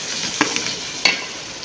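Chicken fries in a pan with dry coriander, salt, red chilli powder and turmeric, giving a steady loud sizzle broken by a few sharp scrapes of stirring, with no voices.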